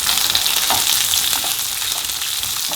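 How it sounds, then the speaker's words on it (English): Onions and peppers sauté in a pan over medium heat, giving a dense, steady sizzle with faint stirring scrapes, close and continuous with no voices. "Keep the heat on medium and saute this for at least 2 to 3 minutes."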